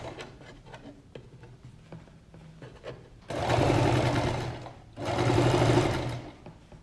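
A sewing machine stitching a 1 cm curved hip pocket seam runs in two loud, steady bursts of whirring needle action, separated by a short pause, after quieter fabric handling and faint taps.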